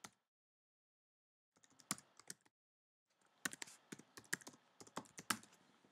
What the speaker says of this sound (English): I'm just going to type in my email